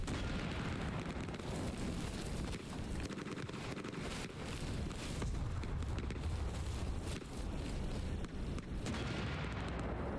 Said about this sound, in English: Coming in on that mortar team. Hear the rounds going off.